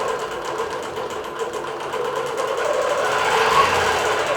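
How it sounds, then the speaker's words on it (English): A computerized quilting machine stitches a row of butterfly motifs between a quilt's center and its border, producing a rapid, continuous mechanical whir and needle chatter, close and steady, with no talking. "So now it's going to stitch that row of butterflies in between the actual center of the quilt and the outside border."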